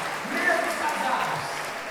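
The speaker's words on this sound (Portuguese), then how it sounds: "Não, isso aí tem que ser aplaudido, mesmo os casados." Audience applause at a Portuguese-language spiritual talk, a steady even patter of many hands clapping throughout, with a voice faintly audible underneath.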